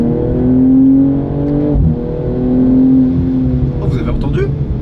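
Engine note of a 2022 BMW M240i xDrive, the sound piped through its Active Sound system rather than the exhaust, a steady rising and falling drone with a swell in revs, heard close alongside someone talking.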